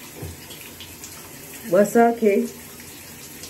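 Steady running shower water hisses close by throughout a morning shower, with a brief spoken greeting rising briefly over the spray partway through.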